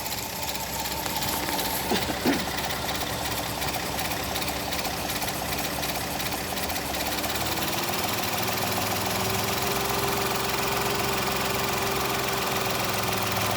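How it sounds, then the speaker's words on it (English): A car engine idles with the air conditioning compressor engaged, giving a continuous, even mechanical hum with faint knocking that holds steady throughout and settles into a slightly deeper drone partway through, with no voices. "the only way to get the compressor running is to turn on the air conditioner"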